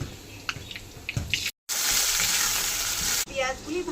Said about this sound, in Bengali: পেঁয়াজগুলি ভাজতে থাকুক